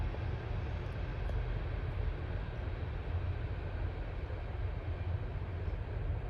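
A Norfolk Southern freight train rolling past a trestle, heard as a steady, distant low rumble and droning roar that holds level throughout without distinct horn blasts or clanks.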